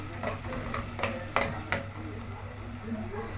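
A pan of sliced onion and rice being stirred as it fries, soft continuous sizzling with a few sharper scrapes of the spoon, close and fairly quiet.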